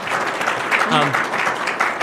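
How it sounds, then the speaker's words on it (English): An audience at a live panel session at the LDI trade show, applauding with dense steady clapping while a voice speaks briefly over it. "Can we give them a round of applause for this?"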